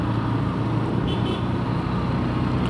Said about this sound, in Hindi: देख लो भाई ट्रैफिक है रोड पे अच्छा खासा भरा हुआ है